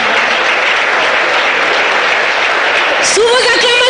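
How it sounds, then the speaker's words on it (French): Sustained applause from an audience at a formal ceremony in Congo-Brazzaville, dense and continuous throughout, with a voice rising briefly near the end. "Sous vos acclamations"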